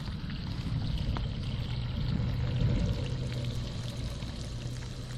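Steady rush of water pouring from a 100-foot hose fed by a pump moving about 1,100 gallons an hour, the outlet propped on a fence; a continuous, fairly close splashing flow with a low rumble underneath.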